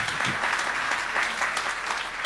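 An audience at a French-language motivational talk applauds in a steady, dense patter of many hands that holds at an even level for a couple of seconds without speech.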